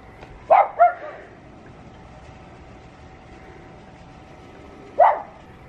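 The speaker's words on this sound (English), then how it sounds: "Not my dog barking." A dog barks outdoors at night near a backyard gazebo, two quick moderately loud barks followed after a pause by a single bark, over a faint steady background hum.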